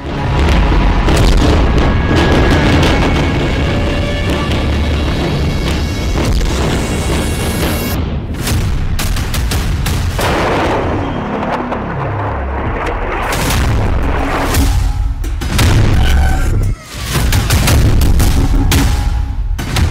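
Explosions in Beirut, Lebanon, during Israeli attacks on Hezbollah: loud, close booms and cracking blasts in a continuous barrage, with a brief drop before more heavy detonations.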